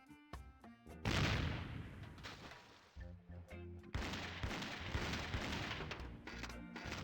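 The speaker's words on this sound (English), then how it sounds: "it's one of those new self-loading cannons I've heard so much about." A self-loading cannon fires in a video game, several loud booming blasts with crashing tails in quick succession, close and heavy, with some game effects in between.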